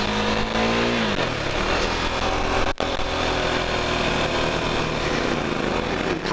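The engine of a Husqvarna Svartpilen 401 scrambler motorcycle revs loud and close, climbing in pitch as it accelerates, dropping briefly at a gear change, then pulling hard again at a steady high drone.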